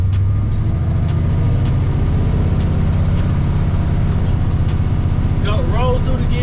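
A Chevy C10 pickup with an LS swap, not fully warmed up, drives under a loud, close engine drone. Its revs change as it works through the gears, ending in a higher whine.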